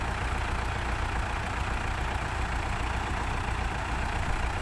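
A farm tractor's steady, low engine rumble idles continuously, even and unchanging throughout, with no voices.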